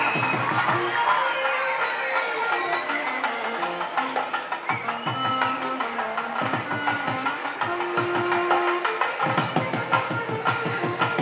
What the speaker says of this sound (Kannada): ದಯಮಾಡಿ ನಿಮ್ಮ ಗೌರವವನ್ನು ಚಪ್ಪಾಳೆಯ ಮೂಲಕ ತಿಳಿಸಿದರೆ ಸಾಕು.